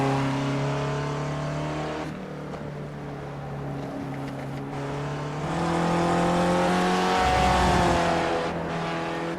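Race cars in the iRacing Spec Racer video game, a loud onboard engine note climbing through revs with abrupt shifts and dips, other engines whining nearby and a brief tire squeal.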